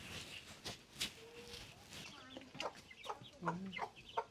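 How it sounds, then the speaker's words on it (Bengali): Chickens cluck softly around a village yard in short, scattered calls, some near and some farther off, mixed with quiet background talk. "বাবা কত মুরগি!"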